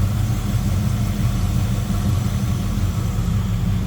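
A 1970 Oldsmobile Cutlass Supreme convertible fitted with headers idles smoothly up close, a steady, even low rumble running unbroken and alone for a few seconds.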